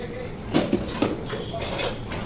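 A lid lifted off a pot of broiler chicken bhuna gives two or three short metallic clinks close by, followed by a faint sizzle underneath.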